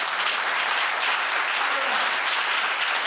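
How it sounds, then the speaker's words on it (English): An audience applauds a group of children at a public gathering in Georgetown, a dense, steady wash of many hands clapping at once, close and loud throughout with no pause. "let me hear a hand of applause for these children once again"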